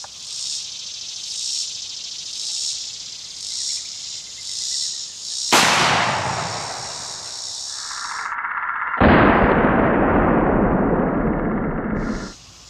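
A 12 gauge shotgun firing 2 3/4-inch #4 shot into a gel block from ten feet, one sharp loud blast midway that rings and decays, followed by a second burst of noise, with crickets chirping faintly outdoors before it.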